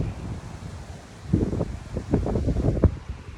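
Strong wind blows across open water and buffets the microphone, making a low, rough rumble that swells and gusts unevenly.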